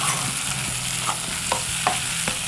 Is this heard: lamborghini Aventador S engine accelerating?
no